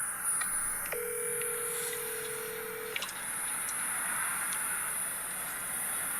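Single steady telephone dial tone for about two seconds, faint clicks around it, over a low hiss, as a call is placed to a Dairy Queen restaurant.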